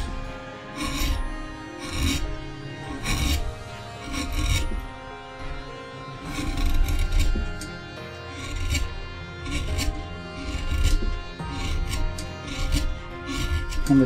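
A wood-carving gouge works through wood in a steady run of soft scraping and rasping strokes, some sharper bites standing out, close by and without speech.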